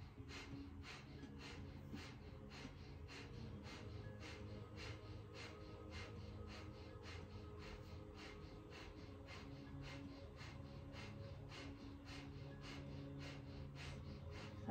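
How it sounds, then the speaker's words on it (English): Breath of fire yoga breathing, with steady, rhythmic forceful exhales repeating about twice a second for the whole stretch, faint and even with no talking. "Breath of fire."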